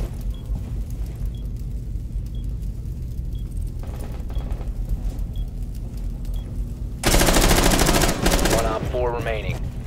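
Gunfire in the video game Rainbow Six Siege on the Yacht map, a burst of loud automatic LMG fire erupting late over steady low game rumble, with voices talking around it.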